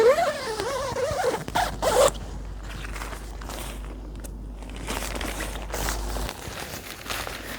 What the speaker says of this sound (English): The zip's a 3/4 zip and is protected from rain by this cover.